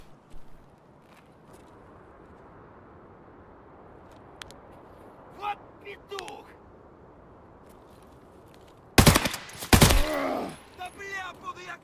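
Sniper gunfire in the Escape From Tarkov video game: after a long quiet stretch with faint scattered noises, two loud, sharp shots crack close together near the end.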